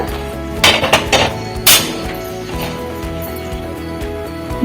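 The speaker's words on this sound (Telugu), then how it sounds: "ఇక బాండ్లీ పెడుతున్నాను స్టవ్ మీద" A few loud metallic clanks of a wok-style pan being set down and shifted on a stove, followed by quieter background hum.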